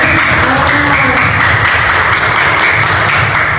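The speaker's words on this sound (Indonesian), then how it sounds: "Tepuk tangan untuk Pak Hanul" Classroom applause for a teacher during a lesson, a steady wash of clapping from a group that holds at an even level without pause for a few seconds.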